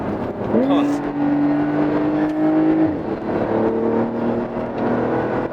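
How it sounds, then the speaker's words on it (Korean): A Porsche 911 Targa 4 GTS sports car with all-wheel drive corners at high speed, its engine holding a sustained steady drone and then easing off, heard from inside the car at moderate loudness. "고속 코너링 시도합니다."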